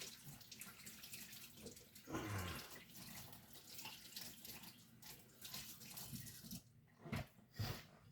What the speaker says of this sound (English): me get some water going.